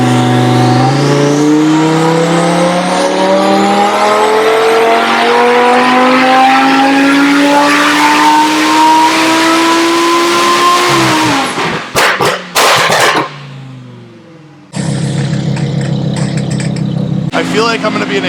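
A tuned 1266whp Audi R8 screams through a loud full-throttle pull, its engine note rising steadily for about eleven seconds before cutting off into sharp crackles and pops, followed by a burst of noisy rumble near the end.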